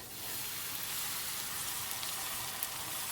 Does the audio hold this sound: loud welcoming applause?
no